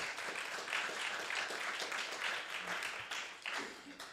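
A conference audience applauds panelists at a plastic pollution policy session, steady moderate clapping heard at some distance, continuing without a break for several seconds.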